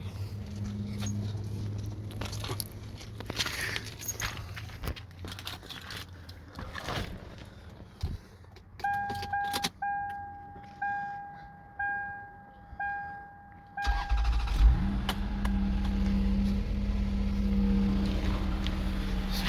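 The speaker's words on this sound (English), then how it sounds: "let's start the car and see if there is a leak or something" A car engine cranks and catches after a run of repeated electronic chime tones, then settles into a loud, steady low rumble, heard during an oxygen sensor test.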